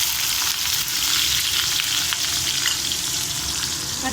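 Sliced onions hitting hot oil with crackled mustard and cumin seeds, a loud, steady, close sizzle and hiss filling the whole stretch with no talking.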